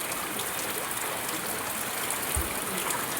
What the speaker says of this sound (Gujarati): તો ફેમિલી અત્યારે છે ને ધોધમાર વરસાદ શરૂ થઈ ગયો છે